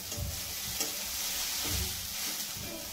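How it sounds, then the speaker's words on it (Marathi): A spoon stirs sabudana khichdi in a frying pan, a steady sizzle with soft scraping strokes repeating close by, no voices. "ह्याला व्यवस्थित असं मिक्स करून घेऊ"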